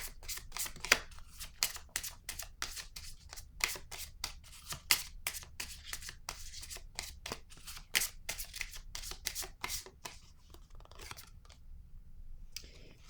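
Oracle cards being shuffled by hand, a close, quiet run of rapid riffling and flicking bursts in an uneven rhythm, easing off toward the end, no voices.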